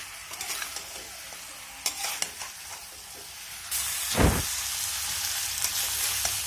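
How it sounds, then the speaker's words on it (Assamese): Chicken curry meat is stirred as it fries in a pan, with scraping stirs and a steady sizzle that swells louder partway through, close up and without talking. "মাংসখিনি ভালদৰে লৰাই ল'ম"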